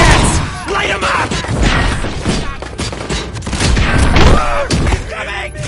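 Heavy gunfire aimed at RoboCop in the video game RoboCop: Rogue City, a loud, continuous fusillade of shots with crashes and booms, while enemies shout over it.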